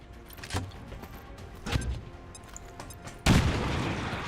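A frag grenade going off in XCOM 2, a loud broadband boom near the end that follows two smaller earlier bangs over steady game ambience, with no talking.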